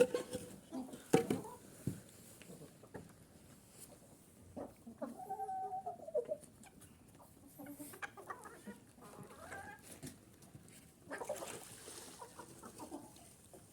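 Chickens cluck sporadically nearby, soft and intermittent, amid quiet rustling and scattered barnyard noises.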